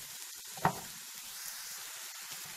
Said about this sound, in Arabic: هكذا راح نخلي الشامبينيون يطلق شويه